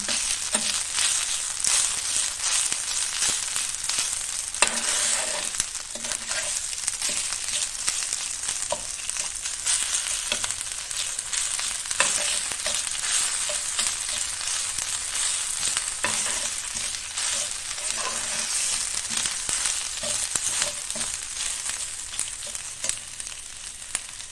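Onion and ginger-garlic paste sauté in a pan for a colocasia-leaf pickle, a continuous close hiss of hot oil with repeated spatula scrapes and stirs scattered across the stretch.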